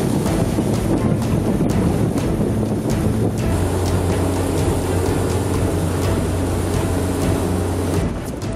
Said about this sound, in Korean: 보트가 갑자기 속도를 내며 달리기 시작하는데요.